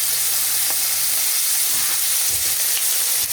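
Onions fry in rendered fat with a dense, steady sizzle, sake splashed in as a deglaze while kimchi stew gets started, with a few clinks of stirring over the constant hiss.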